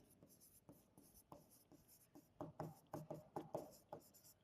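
Chalk or a marker writes letters on a classroom board during a lesson, tapping and scraping in short strokes and clusters. The sound is close but quiet, and it grows busier toward the end.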